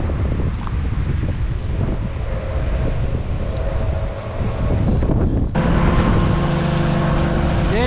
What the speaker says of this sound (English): this wind is kicking right now